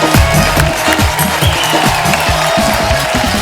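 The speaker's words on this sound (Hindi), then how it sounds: "आप सबकी जोरदार तालियों के बीच प्लीज वेलकम" Studio audience on a television comedy show applauding to welcome guests: dense, loud, continuous clapping from a large crowd filling the whole stretch.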